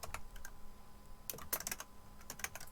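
Keys tapped on a computer keyboard in short separate presses, with a quick cluster of clicks in the middle, close and fairly quiet against a faint room hum.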